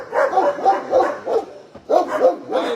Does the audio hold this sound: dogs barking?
yes